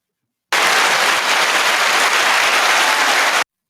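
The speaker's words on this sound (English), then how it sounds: "I had to give myself an applause." Dense, steady applause from a crowd fills the entire span at a loud level, starting and stopping abruptly like a canned clapping effect, with no voices over it.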